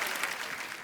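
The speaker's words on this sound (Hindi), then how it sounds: "जोरदार तालियां एक बार" A short burst of dense clapping from an audience, steady and fairly loud throughout.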